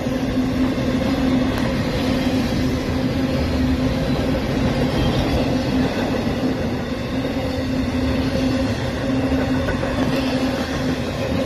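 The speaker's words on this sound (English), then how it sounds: "Not too long of a train." A train passing at Fullerton in the rain, a loud, steady rumble of rolling railcars with clickety-clack wheel noise that carries on unbroken for the whole stretch, with no talking.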